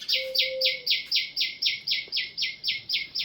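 House sparrow chicks in a nest chirp in a fast, regular series of about a dozen high, close tweets, with a brief steady whistle-like tone near the start.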